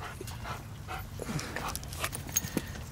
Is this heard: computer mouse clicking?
no